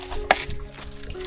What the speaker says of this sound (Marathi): हा बघा इथून हा पाणी येतो